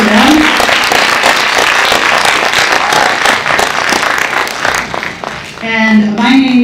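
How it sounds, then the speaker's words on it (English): Loud, sustained audience applause for school choirs at a high school holiday concert, dense clapping that eases off toward the end as a voice and some cheering rise. "Let's have a round of applause for them."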